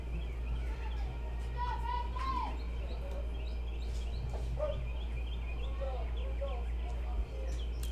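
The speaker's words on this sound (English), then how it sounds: "I hear the birds chirping" Birds chirp outdoors at a girls' softball game between Winnfield and Caldwell, scattered tweets and short calls rising over a steady low hum and distant crowd voices.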